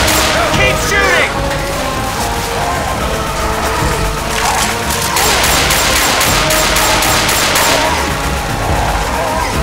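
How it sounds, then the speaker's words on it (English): Gunfire from the zombie shooter Left 4 Dead 2 during a fight with a Tank: dense, continuous volleys of sharp, cracking shots mixed with crashing game effects, with voices shouting over the shooting. "Keep shooting!"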